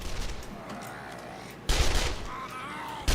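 Bursts of gunfire from shooting zombies in 7 Days to Die, a sustained volley after a quieter stretch and another sharp burst at the end, loud and close.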